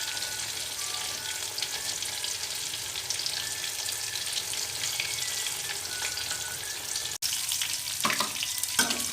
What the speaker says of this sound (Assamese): মাছ কেইপিচৰ কালাৰটো অলপ ব্ৰাউন হ'লেই মই মাছ কেইপিচ উঠাই দিম